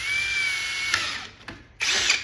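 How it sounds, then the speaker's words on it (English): A power drill whines as it bores through plexiglass during an arcade cabinet restoration, one long run of about a second, then a short burst, then a louder final burst near the end. "I'm going to drill through the plexiglass only."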